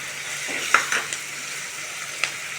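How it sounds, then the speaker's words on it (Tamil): Onions frying in a pan give a steady close sizzle, with a few soft stirring scrapes and clinks scattered through it and no talk. "வெங்காயம் ஓரளவுக்கு ஃப்ரை ஆகிடுச்சு"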